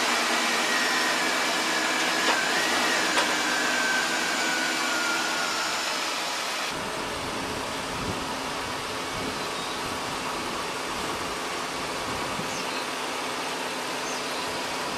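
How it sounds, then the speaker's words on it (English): A vehicle engine starts and settles into a steady, moderately loud idle with no voices. "Let's start the vehicle."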